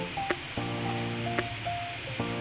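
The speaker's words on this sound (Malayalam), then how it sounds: "ഇനി നമ്മൾ സവാള ഇതിനകത്തോട്ട് ഇടുകയാണ്." Sliced onion goes into a pan of mushrooms sautéing with turmeric and salt, producing a soft, steady sizzle with a few light clicks of stirring, quiet and close.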